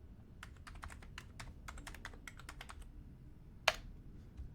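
Quiet typing on a computer keyboard at a home desk: a quick run of light, uneven key taps, pausing briefly before one sharper, louder keystroke, with no talk.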